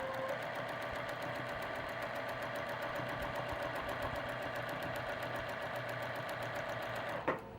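A sewing machine stitches quilt pieces together in a fast, even, close-up rhythmic whir, running steadily before stopping with a short clunk near the end.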